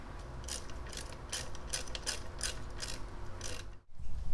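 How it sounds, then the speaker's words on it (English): A hand ratchet tightens a 10mm bolt on a Mitsubishi Evo X intake, giving a steady run of rapid clicking bursts up close, then a brief pause and a final turn. "We did tighten down our 10mm over there, as well as the 8 on the actual band right here."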